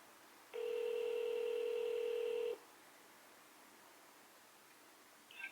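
A single telephone keypad tone on an automated phone menu, a steady electronic beep lasting about two seconds over faint line hiss, then quiet.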